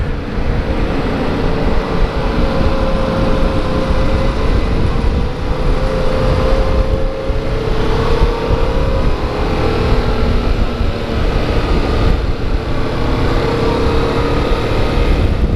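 A 2016 Yamaha FZ-07 motorcycle's engine running while riding, a steady, somewhat rough drone with wavering tonal whine and continuous wind rush, loud and close throughout.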